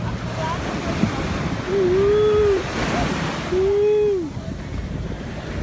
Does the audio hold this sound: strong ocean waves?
yes